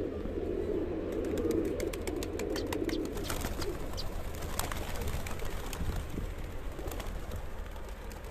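Pigeons cooing in a loft of kept fancy pigeons, low soft rolling coos with scattered chirps and faint wingbeats over a steady background hum, no talking.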